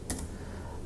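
A short burst of computer keyboard typing, a few quick clicks near the start of a brief, quiet moment.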